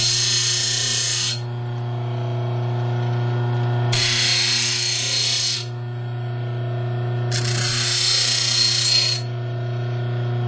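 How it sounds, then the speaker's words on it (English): A bench grinder shapes a steel lockpick hook, with three loud bursts of high-pitched grinding, each about two seconds long, set over the steady hum of the motor. "But to make a simple hook, we can keep it all in the grinder."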